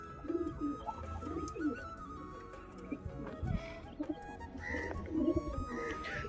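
Pet pigeons in their loft coo repeatedly in soft, low rolling calls, close by and steady across the stretch, with scattered wing flutters and faint clucking mixed in; no one speaks.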